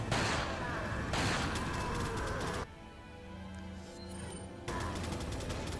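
Enemy gunfire in Resident Evil 4 crackles in dense, continuous bursts that break off briefly and then resume, heard alone without talk.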